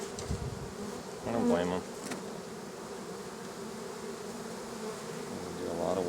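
Swarm of aggressive honeybees buzzing steadily around an opened hive during an inspection, a dense continuous hum close by, with someone speaking briefly over it.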